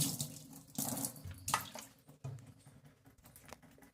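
Liquid cleaner poured in for washing, with splashes and trickling water, uneven bursts of pouring and dripping heard close and fairly quiet.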